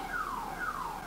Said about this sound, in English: I hope you can't hear that car alarm.